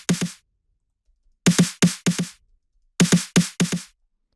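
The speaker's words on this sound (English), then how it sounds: "there's another snare" Layered electronic snare drum in a melodic techno production, played as two bursts of quick bright hits separated by a gap, each run tapering in loudness toward the end, with no voices.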